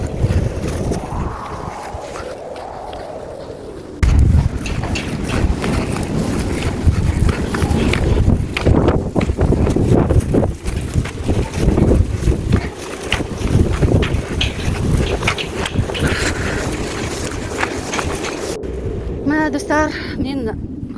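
Strong wind gusts buffet the microphone outdoors, a steady loud roar broken by bursts, while a person talks over it throughout.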